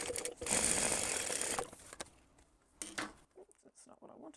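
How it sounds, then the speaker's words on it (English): A sewing machine stitches a seam on a tote bag, a fast, close whirring run of stitching for about a second, then quieter handling clicks and soft rustles with brief pauses. "And we're going to sew along here at a 6mm seam allowance."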